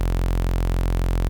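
A Sylenth1 saw-wave synth bass, stacked to eight voices and dropped an octave, holds one continuous, loud, buzzing tone for just over a second with no other sounds.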